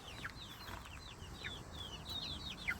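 Chickens in a backyard coop area make soft, high, chirpy clucks and peeps in a steady scattered series, faint and somewhat distant over low background noise.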